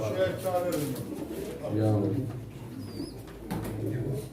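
Pigeons coo low and steady at a pigeon auction in Çorum, Turkey, while people talk over them throughout.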